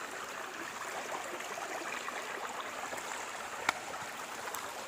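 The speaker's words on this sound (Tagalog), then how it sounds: "yung pagdaloy ng tubig" Water flows steadily at Olangoan Falls, a constant, soft rushing wash heard at a distance with no talk. A single faint tap sounds near the end.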